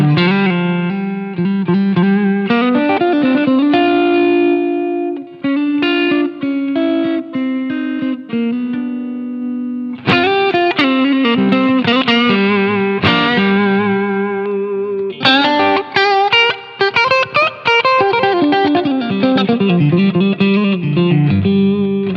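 An electric guitar through a Line 6 HX Stomp XL with a boost engaged plays blues chords and melodic lines, loud, sustained and slightly overdriven, pausing briefly between phrases.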